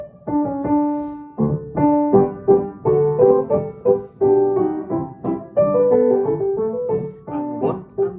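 Lively hornpipe music for a ballet tour en l'air exercise plays in a bouncy, steady dance meter with full, close instrumental chords and melody throughout.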